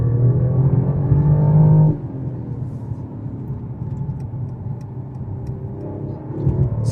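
A 2019 Mercedes CLS450 4Matic cruises with a steady, close engine and road hum that drops in level after a couple of seconds, then holds an even drone.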